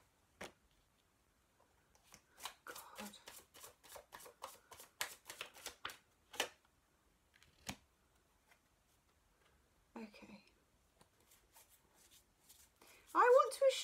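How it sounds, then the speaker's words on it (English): A tarot deck is handled and shuffled up close, with quick rapid flicks of cards in bursts, scattered taps and rustles between them, and quiet pauses. "I'm looking through the pack."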